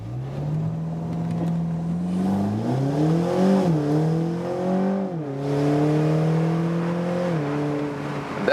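A BMW Z4 30i G29 with its four-cylinder engine pulls away on launch control, the engine note climbing steadily through the gears with brief dips at each upshift, loud and close with no talking.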